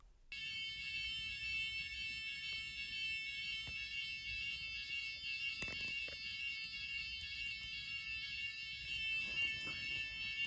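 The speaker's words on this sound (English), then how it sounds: "So this was the sound of an security alarm" Steady, piercing electronic security alarm in a Paris hotel hall at night, a continuous multi-tone shriek holding at constant loudness throughout with faint background rustles and knocks.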